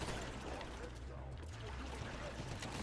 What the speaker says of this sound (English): Dear Mr. Turret, would you stop shooting in this general direction?